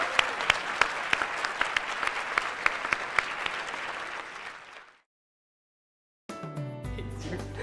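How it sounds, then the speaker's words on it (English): An audience claps steadily for competition finalists at a university thesis event, a dense sustained applause that fades out, followed by silence and then a short musical sting. "let's give them a round of applause"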